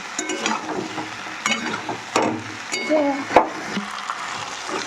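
Fried fish stirred and sautéed in spice paste for a Bengali bata fish curry, with a steady sizzle broken by scraping strokes of a spatula in the pan, close by.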